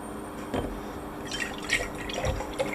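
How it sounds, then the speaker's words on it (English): Milk pours into a mug for making kefir, a soft close liquid trickle with small splashy bursts and drips over a few seconds and no voices. "I pour out milk."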